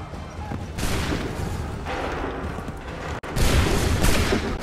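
Soldiers firing musket volleys in Assassin's Creed 3, with loud, ragged bursts of massed gunfire arriving in waves and a sharp gap before a final heavy volley.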